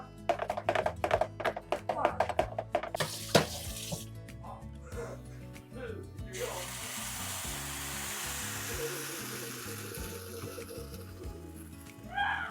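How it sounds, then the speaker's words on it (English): Chickpea omelet in an oiled skillet, a steady soft sizzle of frying batter that follows a burst of clattering taps and knocks from utensils at the start. "We're going to let the chickpea omelet sit and cook for a little bit"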